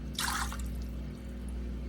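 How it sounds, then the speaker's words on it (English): A cup of water poured into an Instant Pot holding two pounds of ingredients for Zuppa Toscana soup, a brief close splash lasting about a third of a second over a quiet background. "to that I'm going to put a cup of water"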